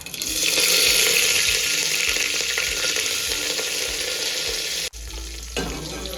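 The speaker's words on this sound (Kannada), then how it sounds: "ಏನಮ್ಮ ಒಗ್ಗರಣೆ ಹಾಕ್ತಾ ಇದೆಯಾ? ಕಾಳುಳಿಗೆ, ಸಾಸಿವೆ, ಜೀರಿಗೆ, ಈರುಳ್ಳಿ, ಬೆಳ್ಳುಳ್ಳಿ, ಕರ್ಬೇವಿನ ಸೊಪ್ಪು." Mustard seeds, cumin, onion, garlic and curry leaves sizzle loudly in hot oil for a South Indian tempering, a steady dense frying hiss with a brief stir or clatter near the end.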